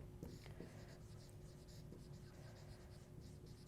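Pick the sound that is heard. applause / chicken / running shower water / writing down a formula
writing down a formula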